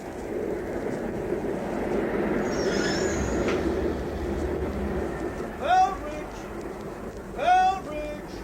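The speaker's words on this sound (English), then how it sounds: "And there's the train." A train pulls into a station in a radio drama, heard as a steady, broad rumble running the whole length, with two short bursts of talk near the end.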